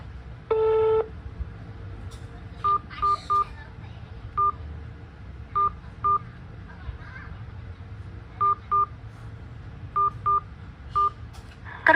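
A long beep is followed by a series of short, evenly spaced telephone keypad tones, some in quick pairs, over a faint background hum, on an automated phone line.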